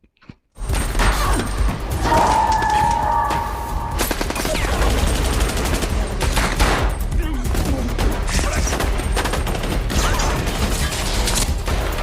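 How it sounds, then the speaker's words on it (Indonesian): Sustained rapid gunfire from a shootout in the 2020 film Project Power rattles continuously, loud and dense like several weapons firing at once, with mechanical clatter and no clear pauses. "baku tembak pun terjadi."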